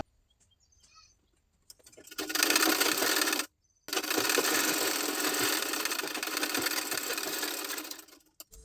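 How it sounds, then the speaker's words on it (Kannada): Sewing machine stitching a hook strip onto a blouse, a steady loud mechanical whir running in two long bursts with a brief stop between, near and without talk. "ಈಗ ನಾನು ಹುಕ್ ಪಟ್ಟಿ ಹಚ್ಚಿ ಸ್ಟಿಚ್ ಮಾಡ್ತಾ ಇದ್ದೀನಿ."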